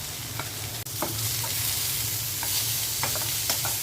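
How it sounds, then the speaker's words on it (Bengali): Vegetables frying in mustard oil, a continuous close sizzle with several soft stirring scrapes and taps scattered through, no voices. "সবজিটা ভাজা হয়ে গেছে।"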